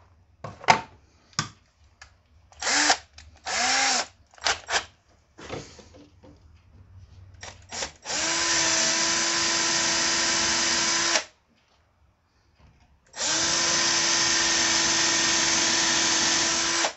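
A power drill with a 2.5 mm bit whirs in two sustained, loud bursts into an IFA Multicar M24/M25 instrument panel, preceded by scattered clicks and handling noises.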